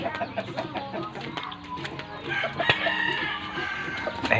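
A busy flock of chickens clucks and squawks, with a rooster crowing amid scattered bird calls.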